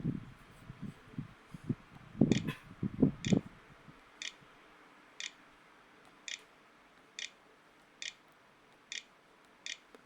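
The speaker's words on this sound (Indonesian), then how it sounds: "Kita masukkan password menggunakan keyboard internal." Keys tap on the internal keyboard of an Acer Aspire E5-473 laptop as a password goes in. A few dull knocks come first, then crisp single clicks follow at a steady, unhurried pace.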